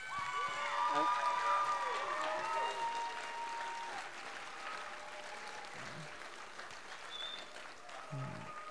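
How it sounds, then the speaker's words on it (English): An audience at a high school assembly claps, loud at first and then tapering off into scattered applause, with voices and some cheering mixed in. "big round of applause"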